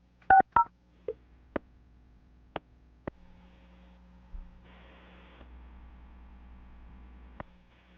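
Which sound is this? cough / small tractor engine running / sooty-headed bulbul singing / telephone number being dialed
telephone number being dialed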